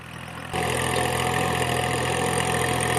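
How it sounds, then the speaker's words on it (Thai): A Kubota L3608 36-horsepower three-cylinder diesel farm tractor idles and then revs up sharply after a moment, holding a loud, steady mechanical drone with a low rumble. "วัวยังตกใจครับ เสียงรถไถนะ"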